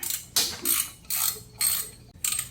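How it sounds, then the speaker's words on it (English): A ratchet works on tightly torqued bolts of a 420cc go-kart, five quick close bursts of clicking pawl strokes in an even back-and-forth rhythm, with no talking. "I'm gonna go get a ratchet"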